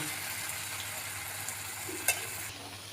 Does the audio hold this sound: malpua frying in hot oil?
yes